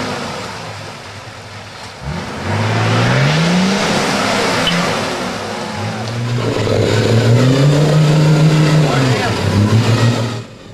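A Nissan GU 4x4 strains in reverse out of a muddy bog hole, its engine revving up and down in loud, close surges as the wheels work, with people talking over the noise.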